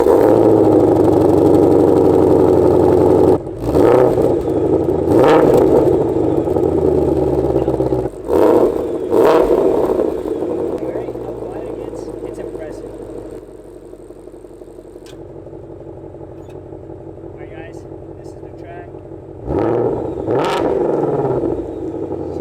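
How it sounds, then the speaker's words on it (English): Shelby GT500 with active exhaust starting up and revving, loud throaty blips separated by short pauses, then settling into a lower rumbling idle before one more sharp rev near the end. "4th is that it has active exhaust."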